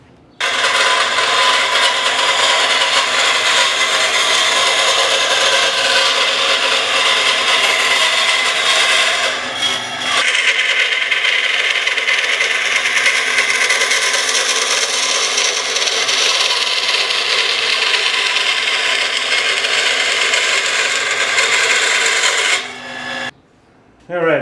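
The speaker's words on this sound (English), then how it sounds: "take it to the bandsaw and rough cut that out" A bandsaw rough cuts a wooden sword blade, a replica of a great sword. The rasping cut runs continuously and loudly for over twenty seconds, with a brief dip near the middle and a stop at the end.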